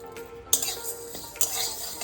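Cumin, coriander, bay leaf and small cardamom pods are dry-roasted in a pan, heard as close scraping and stirring with two sharp metallic clinks of the spoon against the pan.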